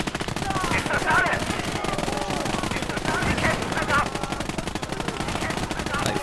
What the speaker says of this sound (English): Then I decided to flank with the half track and just shoot straight down the trench.